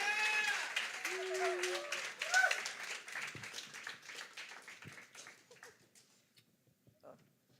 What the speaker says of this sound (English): Let's get one more round of applause for Madison and Max.